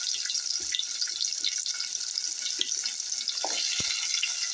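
Whole small shallots and cumin fried in hot oil for brinjal kara kuzhambu, giving a bright, continuous sizzle with occasional stirring knocks and clinks throughout, no voices.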